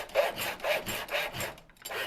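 Hand miter saw cutting through a small wooden board, with four steady back-and-forth rasping strokes close up before a brief pause and a faint restart.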